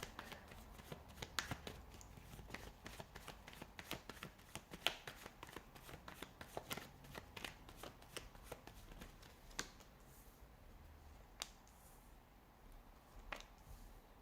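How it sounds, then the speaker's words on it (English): Quiet, close riffling and snapping of playing cards being shuffled, a dense run of crisp clicks that thins out toward the end. "give the cards a shuffle"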